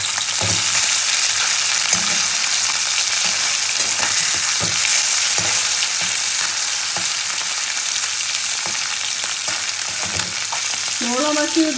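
Small mourala fish frying in a pan, a dense continuous sizzle close to the microphone, broken by the soft scraping and taps of a spatula turning the fish.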